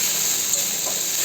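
Spice masala with turmeric fries in hot oil, giving a steady close sizzle and hiss that holds evenly throughout, with no talking.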